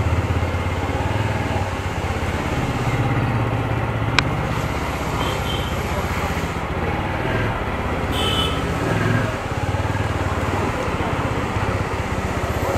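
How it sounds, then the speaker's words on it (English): A TVS Apache RTR 200 4V motorcycle engine drones steadily while riding, a low continuous rumble with road noise and no pauses throughout. "So let's take it for a spin."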